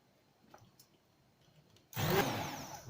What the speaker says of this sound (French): Ce qu'on va faire, c'est mixer le tout.